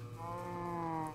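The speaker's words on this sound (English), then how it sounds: "oh, cow, potential hide." A cow in the video game Minecraft gives a single drawn-out, low moo that holds steady for about a second, heard alone and fairly close.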